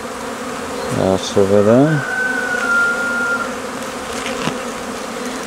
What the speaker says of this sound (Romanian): Iată albine iernate aici pe o ramă.